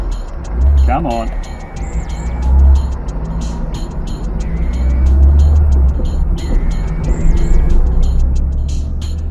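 An old Soviet-made Russian car drives along, its engine a steady loud drone throughout, with a voice speaking briefly over it.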